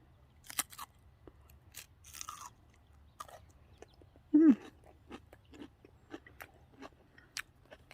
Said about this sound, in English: So I'm going to go ahead and eat this cucumber.